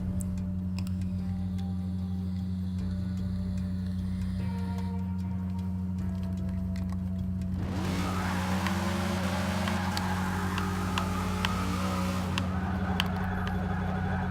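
Virtual 1969 Pontiac Firebird engine, set up for all-wheel-drive drifting in Forza 6, holds a steady drone and then rises into sweeping revs and tyre scrub midway, with faint ticking underneath and no speech.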